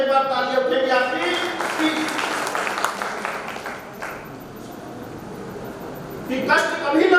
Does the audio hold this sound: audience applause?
yes